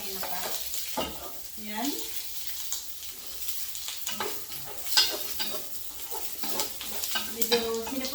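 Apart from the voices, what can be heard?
onion frying in oil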